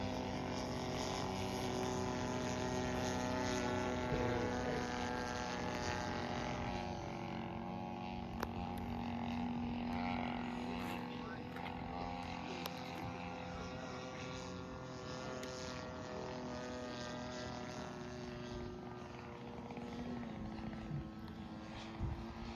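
A radio-controlled scale model Stuka dive bomber flies at a scale contest while coming around to land, its propeller engine droning steadily at moderate distance throughout with a slowly shifting pitch and no talk.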